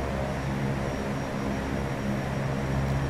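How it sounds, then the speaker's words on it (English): Twin propeller engines of an EMB 110 in X-Plane 11 throttle up as a steady, loud drone with a low rumble and tonal hum running throughout, with no talking. "Try to edge our throttles forward a little bit."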